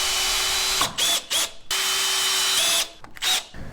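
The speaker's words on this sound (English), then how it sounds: "we're going to go ahead and screw in the reinforcement plate first in their two pilot holes" A power drill drives screws into a door lock reinforcement plate, giving several short whirring bursts that rise and stop, with brief pauses between them, close up and fairly loud.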